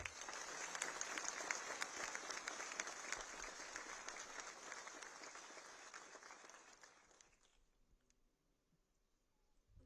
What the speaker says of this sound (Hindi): स्वागत जोरदार तालियों के साथ करें